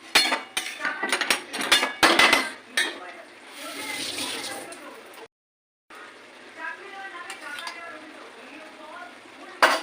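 A spoon stirring potatoes with ghee in a cooking pot while making a banana-blossom curry with prawns: repeated scraping and clattering against the metal, with a soft sizzle beneath and a voice talking over it.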